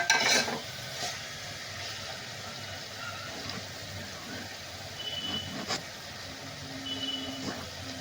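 Khichdi masala with turmeric and chili powder sautéed in a pan, a soft steady sizzle with scraping stirs and a few light utensil clinks throughout.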